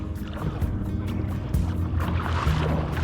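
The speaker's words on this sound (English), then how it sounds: "Just gonna pull the boat up in here." Water sloshes and splashes around a tiny boat being pulled ashore in Galveston Bay, with a few bumps and scrapes as it shifts, wind noise in the background, no speech.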